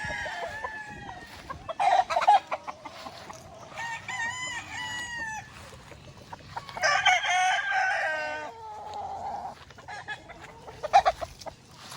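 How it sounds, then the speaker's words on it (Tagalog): Chickens cluck at a chicken coop while a rooster crows several times, moderately close, amid scattered farmyard noise. "lagayan ng manok, kulungan ng manok"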